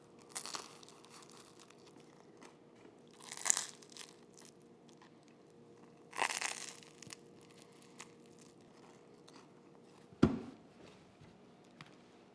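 A few separate crunchy bites into the buttered heel of no-knead artisan bread baked in a Dutch oven, each a short crisp crackle, close and fairly quiet, spaced several seconds apart over a low steady hum.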